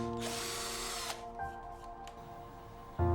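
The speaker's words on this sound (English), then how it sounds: "Drill the mark." A power drill bores a hole through a marked HMR board track, a sharp high whine lasting about a second, then quieter handling noises and a thump at the end.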